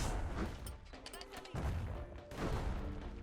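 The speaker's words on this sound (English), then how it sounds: "the galleon mortar takes a second to come back down to earth" A galleon mortar fires in the video game Bastion, giving several heavy booming blasts with rumbling tails, spaced about a second apart, under a faint background voice.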